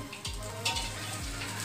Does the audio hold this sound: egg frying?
yes